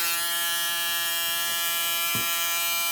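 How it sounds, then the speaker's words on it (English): A Babyliss FoilFX02 electric foil shaver runs steadily, its high-speed motor giving a close, constant whine with a couple of brief clicks or handling knocks. "You can obviously tell it's a high-speed motor on there."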